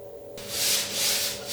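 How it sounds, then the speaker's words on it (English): High build primer on a car body is sanded by hand in a few long, rhythmic strokes, a close, breathy scraping over a faint background hum. "that primer, high build primer is nice. And then, of course, back to sanding"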